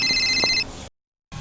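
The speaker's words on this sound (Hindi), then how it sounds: "ये मोर बेटी का फोन आ गया।" A phone rings with a bright electronic trill for under a second, then cuts to silence before a brief burst of noise resumes.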